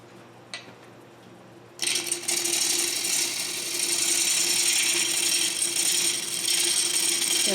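A half-inch Record Power bowl gouge roughing a 10-inch wooden bowl blank on a lathe, a steady loud hissing cut that begins abruptly after a quiet moment and carries on continuously.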